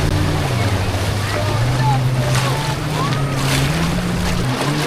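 Sea waves surging up the beach at Cox's Bazar, a constant loud wash of surf with wind buffeting the microphone and a motor droning underneath.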